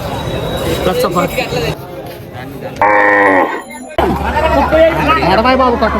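A buffalo at the Alamuru buffalo market lets out a loud, drawn-out moo amid the busy chatter and commotion of a crowd.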